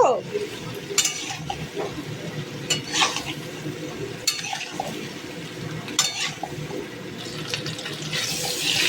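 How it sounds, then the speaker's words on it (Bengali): Small new potatoes being stirred in a pan with salt and turmeric, the spoon scraping in bursts of clatter over a steady sizzle of frying, close and fairly loud, with no talk. "স্বাদ মতো লবণ ও হলুদ দেব নাড়াচাড়া করব তারপর বাটা মশলাটা আমরা যোগ করব"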